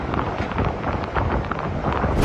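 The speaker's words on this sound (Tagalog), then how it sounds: "Sa Rojas, iwinawasiwas ng malakas na hangin ng mga puno at nagngangalit ang dagat bago pa maglandfall ang bagyo." Strong typhoon wind whips through trees ahead of a storm's landfall in Rojas, with the sea churning; a steady, loud broadband roar buffets the microphone throughout with no break.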